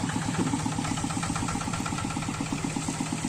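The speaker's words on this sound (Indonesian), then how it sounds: "Ini mesin si Gemoy baru Mang Asep turunin" Steady, rhythmic chugging of a vehicle engine running at idle, a continuous mid-pitched pulsing throb that stays even and fairly close throughout, with no voices.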